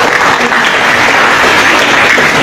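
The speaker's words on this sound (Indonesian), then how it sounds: "tepuk tangan untuk istri saya ini." A seated audience at an Islamic lecture gives a loud, dense round of applause for the speaker's wife. The clapping is steady and close and fills the whole short stretch.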